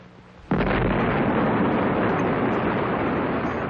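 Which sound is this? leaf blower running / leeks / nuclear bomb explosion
nuclear bomb explosion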